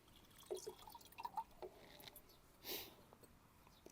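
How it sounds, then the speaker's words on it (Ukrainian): Water trickles and drips into a watering can as it is topped up to ten litres for garden garlic, with scattered close, quiet drops and a brief splash. "Ми додаємо до нашої поливайки, тобто доводимо до 10 літрів води."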